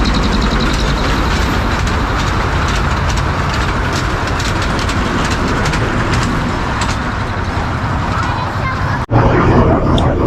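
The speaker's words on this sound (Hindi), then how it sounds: "हमारे सामने से एक टॉय ट्रेन दिखला के वापस लौट रही है।" A toy train runs past on its tracks near the Elephanta Caves in Mumbai, giving a steady, loud rumble with rhythmic clacking that carries through the whole stretch before cutting off sharply near the end.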